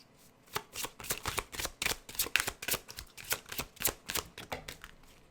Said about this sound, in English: So let's get more insight with these astrology oracle cards.